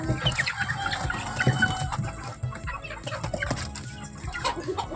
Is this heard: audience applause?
no